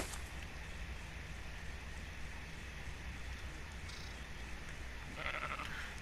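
A tiny baby aberrant Ovis sheep in the video game ARK: Survival Evolved, on the Valguero map, bleats amid steady game ambience, with a brief louder burst near the end and no speech.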